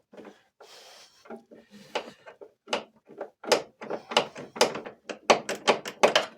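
A ratchet wrench works a nut on the upper engine mount of a Peugeot 205 GTI 1.9. It gives short bursts of clicking, at first sparse and then in quick repeated strokes, loud and close with little else around.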